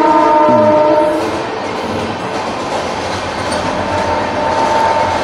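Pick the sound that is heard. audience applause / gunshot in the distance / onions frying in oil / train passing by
train passing by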